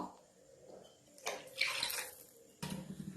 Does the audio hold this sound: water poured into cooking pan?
yes